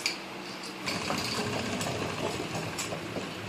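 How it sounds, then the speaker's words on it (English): A Mamod toy steam tractor runs nearby with a quick, steady mechanical chuffing and rattling, fairly quiet and without talk. "this is my Mamad steam tractor."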